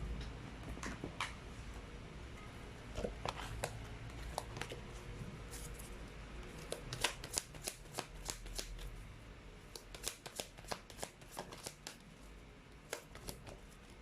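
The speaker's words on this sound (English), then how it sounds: "let's try to pull up another set of cards" A deck of tarot cards is shuffled near and fairly soft, a steady papery riffle punctuated by sharp repeated snaps and taps as cards are cut and squared, with no talking.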